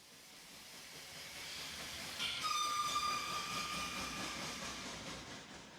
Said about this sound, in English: The smokestacks are rising, steam engines are roaring